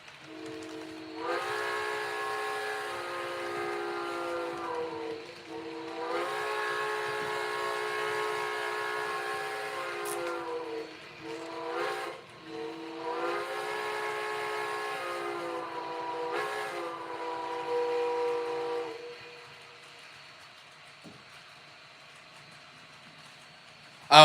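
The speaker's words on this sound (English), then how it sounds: "All right, Pensy three chime." A Pennsylvania three-chime steam whistle from a train video game sounds in several long, loud chords with short breaks between them, then fades to quiet near the end.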